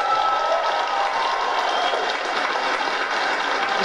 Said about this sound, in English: She didn't get much of a clap